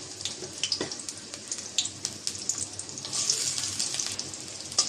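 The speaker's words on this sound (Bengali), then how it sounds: "পেঁয়াজটা একটু ভেজে নেব" Chopped onion and garlic frying in oil in a karahi, a continuous crackling sizzle broken by water-like splashes and clicks, growing denser toward the end, no talking.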